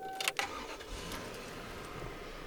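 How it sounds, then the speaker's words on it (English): A 1993 Toyota Crown Majesta V8 starts up, a short starter crank with a chime and clicks first, then the engine catches and settles into a low, steady idle close to the microphone. "let's start the car engine again"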